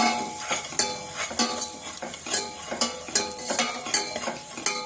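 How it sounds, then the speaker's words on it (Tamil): A spoon scraping and clinking rhythmically against a pan, roughly twice a second, over a soft sizzle of cooking liquid. "இப்படி எல்லாத்தையும் போட்டு நல்லா கொதிக்கிற வரைக்கும் கலக்கணும்"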